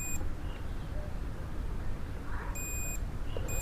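A multimeter's continuity beep sounds while a phone speaker circuit is tested, steady high tones switching on and off over a constant hiss of background noise.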